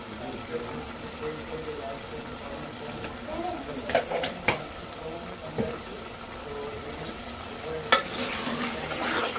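A spoon stirs egg and ridge gourd curry with green chillies and coriander powder in a sizzling pan, giving steady close scraping and frying with a few sharper clinks, while a voice talks over it.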